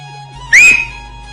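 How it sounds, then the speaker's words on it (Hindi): A person gives one short, loud whistle that slides quickly upward and then holds a steady tone for a moment, heard alone against faint background hum. "कौन हरामी सीटी बजाइस रे?"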